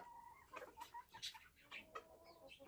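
Chickens cluck in short, repeated bursts, a few birds calling close by with brief pauses between.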